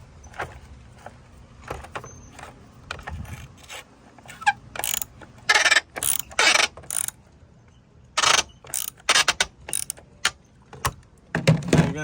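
A ratchet tightens the battery hold-down bolt in the engine bay of a 2013 VW Passat, giving irregular clicking and metallic clatter that starts faint and turns into louder bursts of ratcheting. There is no talking.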